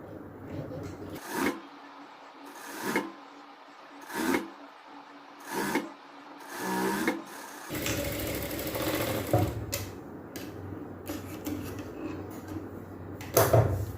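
A sewing machine stitches a kurti seam at a quarter inch, running in short repeated bursts at first and then in one longer steady run, with some fabric handling between.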